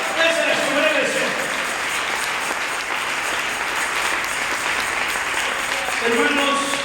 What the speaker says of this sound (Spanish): Le quiero dar esas palmas al Señor, hermano.